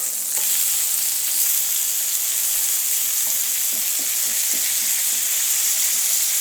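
A burger patty frying in oil in a pan gives a steady, loud sizzle, with a few soft scraping clicks as it is flipped and turned, and no talking.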